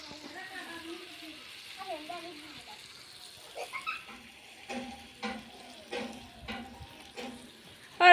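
Food fries in a pan during home cooking for a New Year meal, a soft steady sizzle with occasional stirring clicks running beneath nearby people talking.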